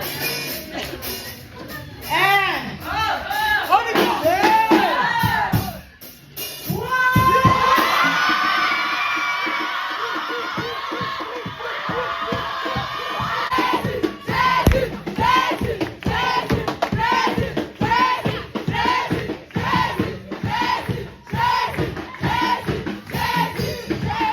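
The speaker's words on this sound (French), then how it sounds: "Il faut crier plus fort que ton voisin." A church service congregation shouts loudly together, a dense, sustained crowd roar of many voices rising and falling, with a preacher's voice heard over it at the start.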